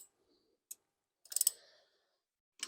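Metal clicks and a short burst of ratcheting as a fitting is tightened on the steering rack end of a Mini with metric hardware, using a 3/8 Allen socket and a 19 mm wrench; a few isolated clicks, then a brief rattling run, fairly quiet.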